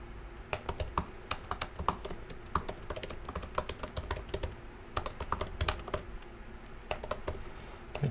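Rapid, uneven keystrokes clatter on a computer keyboard, close and fairly crisp, with brief pauses between bursts and no talking.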